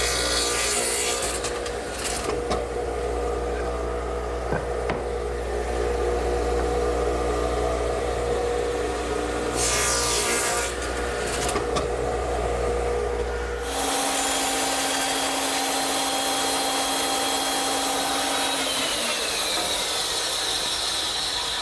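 Radial arm saw cutting angled side cuts on tenons for a cricket table, a steady loud whining motor drone with rasping cut noise, shifting tone partway through as the blade runs on alone.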